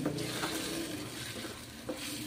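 Tomato puree sautés in a pan on a low flame for chhole, with a soft continuous sizzle and a few light stirring taps.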